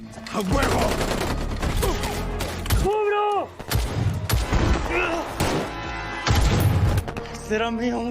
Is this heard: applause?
no